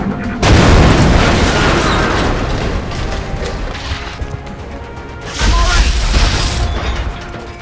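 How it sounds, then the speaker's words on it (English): Two heavy bomb explosions in the video game X-Com, each a loud booming blast with a long rumbling tail, the second arriving about five seconds after the first. "there's a bomb right in front of us, and everyone braces for impact, while Gaston takes 2 for the team"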